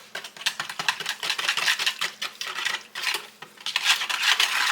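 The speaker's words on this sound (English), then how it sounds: "But you just want to mix that pudding mix up in that milk." A whisk beats pudding mix into milk in a bowl, giving a steady run of quick, close clinking strokes against the bowl with no talking.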